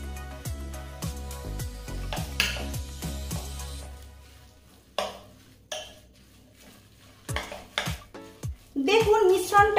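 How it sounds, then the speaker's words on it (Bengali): Raw potato, flour and semolina batter mixed in a bowl, with clinks and knocks of a spoon against the bowl at irregular intervals, some louder clatters near the end, and a voice talking faintly underneath. "এবারে এই সমস্ত উপকরণগুলো খুব ভালোভাবে মিশিয়ে নেব।"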